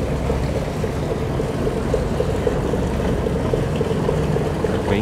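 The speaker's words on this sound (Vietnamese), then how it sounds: "Anh xà lan này từ bên trong đi ra nha." A barge comes out onto open water off the Kien Giang coast, its engine droning steadily and loudly nearby along with the wash of water.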